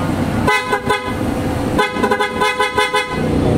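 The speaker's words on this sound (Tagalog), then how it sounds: "i-testing natin yung sound quality mga boss" PIAA car horns on a Suzuki mini van blare in two loud, bright bursts, the first short and the second longer with rapid pulsing toots, close and sharp.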